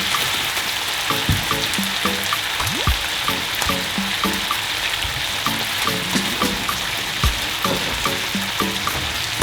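Prawns fry loudly in chili garlic butter in a pan, a dense continuous sizzle and crackle with rhythmic popping bursts, close up and without voices.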